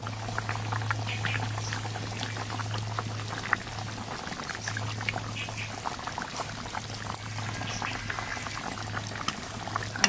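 Hilsa fish in mustard sauce simmers in a village kitchen pot, bubbling and popping steadily over a low hum for the whole stretch, with no talk.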